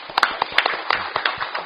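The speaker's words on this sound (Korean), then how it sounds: "다시 한번 뜨거운 박수로 좀" Scattered, uneven hand claps from a small audience at a policy forum, sparse individual claps rather than full applause, fairly close and brief.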